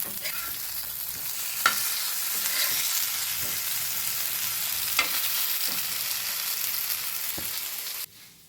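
Fish frying in a pan gives a steady, loud, hissing sizzle with occasional pops, then cuts off abruptly near the end.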